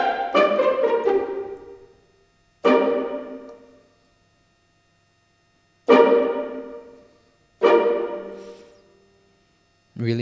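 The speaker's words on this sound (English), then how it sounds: "Pizzicato now is the plucking of the violin strings." Orchestral violin strings are played pizzicato: a few separate plucked chords that ring and decay, spaced apart with silences in between, clear and fairly quiet.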